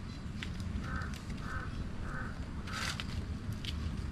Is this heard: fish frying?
no